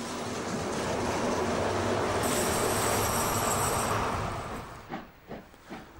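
A freight train hauled by a rebuilt class 52 steam locomotive with electric locomotive 112 708 pushing at the rear, a loud rolling rumble and hiss of wagons passing close by, fading into a few spaced clanks as the last cars go.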